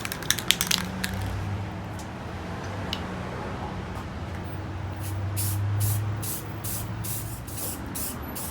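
Several short bursts of spray from a rattle can painting a large portable steel toolbox in satin hunter green, hissing close by with brief pauses between passes.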